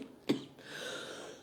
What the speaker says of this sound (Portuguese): Mil desculpas aqui com a minha tosse.